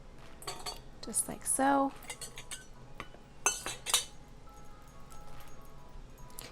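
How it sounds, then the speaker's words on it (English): Potatoes going into glass jars for potato and onion soup: several clinking and knocking taps of glass and utensils, irregular and close, with a few quiet spoken words. "I'm going to fill up my jars with the potatoes"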